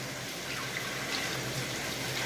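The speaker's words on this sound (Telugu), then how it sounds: "ఫస్ట్ వాటర్ వేసుకోవాలి" Water pours in a steady, continuous gush into a pot of dal for pappu charu, close and even throughout, with no talking.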